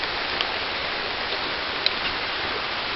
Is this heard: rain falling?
yes